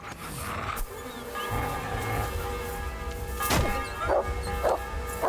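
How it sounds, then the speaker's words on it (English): Dogs snarling and scuffling in Kingdom Come: Deliverance II, a bark-like yelp and growls rising over a busy game backdrop of steady tones, with thuds and sharp clatters of a close fight toward the end. "Mutt is probably gonna kill that dog."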